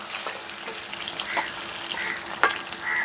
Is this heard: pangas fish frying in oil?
yes